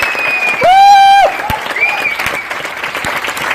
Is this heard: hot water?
no